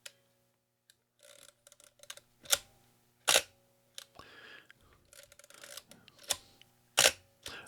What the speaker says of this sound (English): It's not a particularly quiet camera.